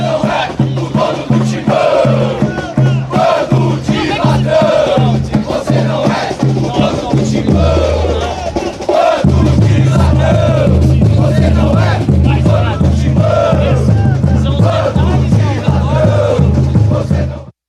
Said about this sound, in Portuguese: Vamos ouvir o que cantou a torcida organizada.